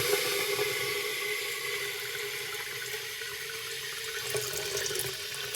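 Water runs steadily into a kettle being filled for tea, a constant close rushing stream from a tap with a slight change in pitch as the vessel fills.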